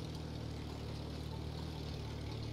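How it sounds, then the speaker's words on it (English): Car engine in a video game running rough, a low steady idling drone with a constant hum, fairly faint and heard alone. "Oh, this car doesn't sound good."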